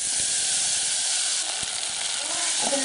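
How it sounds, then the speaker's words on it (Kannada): Jackfruit pieces fry in hot ghee, giving a loud, steady hissing sizzle close up that barely changes throughout, with a faint clink near the end. "ತುಪ್ಪ ಕಾದ್ಮೇಲೆ ಈ ಹಲಸಿನ ಹಣ್ಣಿನ ಪೀಸಸ್ನ ಅದಕ್ಕೆ ಹಾಕಿ"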